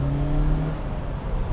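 A 2008 Mercedes-Benz SLK200 Kompressor pulls away under throttle, its engine note rising in a brief, close, steady drone with no voices.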